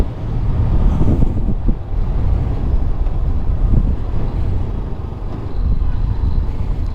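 A 2019 Honda CBR500R motorcycle accelerates on the road, its engine roar blended with heavy, constant wind buffeting at close range for the whole stretch, with no talking.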